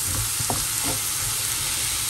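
Steady loud sizzling of sofrito frying in a pan for bean rice, close up, with a couple of faint stirring scrapes early on and no talk.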